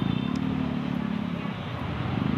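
A motorcycle rides through heavy EDSA traffic in Manila, its engine droning close with a pulsing, throbbing note amid surrounding road noise, and a voice talks briefly over it.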